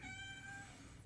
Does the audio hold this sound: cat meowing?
yes